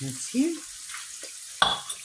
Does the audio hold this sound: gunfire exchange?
no